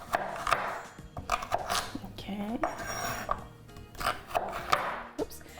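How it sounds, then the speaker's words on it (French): Knife chopping a carrot on a board: a run of sharp, fairly close cuts at uneven pace, each a crisp tap, with brief gaps between bursts. "Et là, je vais couper la carotte."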